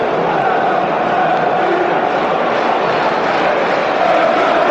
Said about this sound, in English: that's got the fans on their feet and applauding